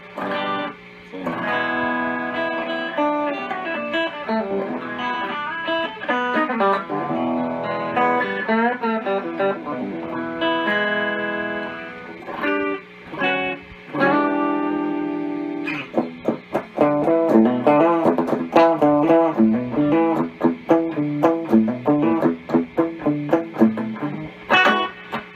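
Electric guitar with heavy distortion played through a Peavey 6505 amp, strummed chords and riffs ringing loud and continuous, growing busier and more percussive toward the end with no talking.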